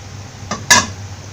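A metal cooking pot is set down on a kitchen stove, two quick clanks close together, the second louder, over a quiet low hum.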